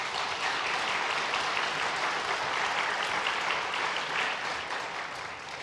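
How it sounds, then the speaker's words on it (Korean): Church congregation applauding in welcome during a Sunday service at a Korean Holiness church, a steady, even wash of many hands clapping that holds for several seconds and eases slightly at the end. "잠깐 자리에 일어나 인사하실 때 우리 박수로 환영하도록 하겠습니다"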